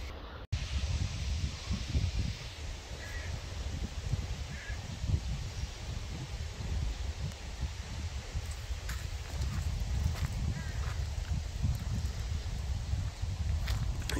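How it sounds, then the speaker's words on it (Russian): A breeze blows steadily across an open outdoor spot among wildflowers such as chamomile, buffeting loudly and continuously as low rumbling gusts with faint rustling of plants. "Ветерок дует."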